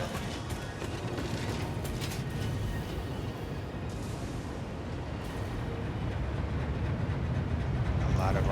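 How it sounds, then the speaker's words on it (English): Several trains run in the factory-building video game Satisfactory, hauling items into a small station. A continuous rumbling, clattering rail noise rolls on steadily throughout and grows slightly louder toward the end. "We have several trains just bringing in items from around the world."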